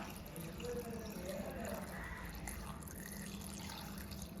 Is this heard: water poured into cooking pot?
yes